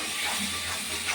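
Spice paste sizzling in hot oil with onions while cooking soybean with egg, a steady soft hiss filling the clip at low volume with no talk.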